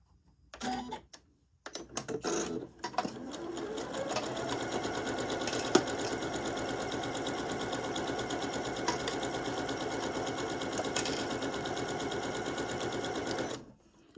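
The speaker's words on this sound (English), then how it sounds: "Using a straight stitch, we're going to go ahead and sew our neck facing to our back piece using that 3/8 inch seam allowance there." A sewing machine runs a straight stitch to attach a neck facing to a fabric back piece, a steady close mechanical whir lasting several seconds after a few brief starts.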